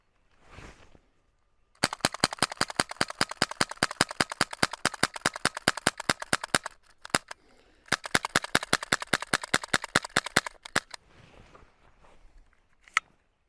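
A KWC M-11 air pistol empties its BB magazine in two rapid strings of sharp, evenly spaced cracks, close and crisp, separated by a short pause and ending with a few scattered single shots.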